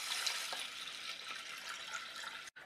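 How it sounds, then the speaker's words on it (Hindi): Water pours steadily into a pressure cooker of lentils in a continuous hissing rush, close by, then cuts off abruptly near the end. "और साथ ही में हम इसमें डालेंगे इसको पकाने के लिए पानी"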